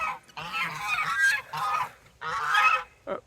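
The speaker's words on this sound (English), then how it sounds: "Okay, geese, calm down." Several geese honk loudly in overlapping bursts, three noisy calls close by followed by a short final honk.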